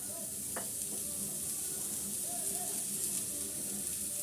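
Small pumpkin pieces sizzle steadily in hot mustard oil with a little salt, a continuous close frying hiss with faint stirring scrapes throughout.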